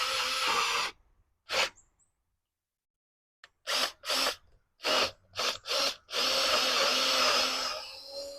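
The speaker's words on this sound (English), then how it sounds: "And I'm going to try to drill this as straight as I can right down here." A long Harbor Freight power drill bores into wood while a raised garden bed is being built, whirring in repeated loud bursts separated by pauses, with a sustained run at the end.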